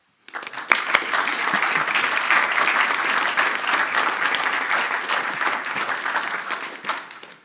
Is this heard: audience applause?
yes